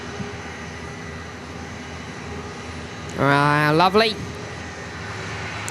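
Airliner jet at Perth Airport heard as a steady, distant broadband roar throughout, with a brief spoken word from a nearby voice partway through.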